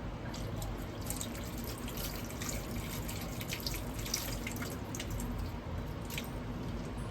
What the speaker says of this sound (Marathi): तर याच्यामध्ये आपण पाणी टाकायचं